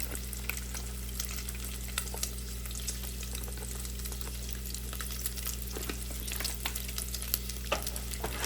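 Garlic and parsley are stirred into a sizzling pan for spaghetti, with a constant crackling fry and scattered light spoon clicks over a low background hum.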